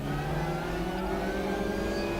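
An Opel Astra TC touring car engine in the RaceRoom racing game drones loudly and continuously, its pitch shifting slightly as it revs through the stretch with no talk over it.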